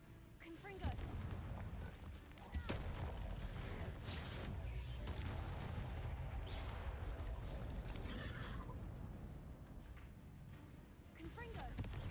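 Confringo blasting spell explosions burst repeatedly in Hogwarts Legacy, a string of sharp cracks and rumbling booms over continuous battle noise, while a voice talks over the action.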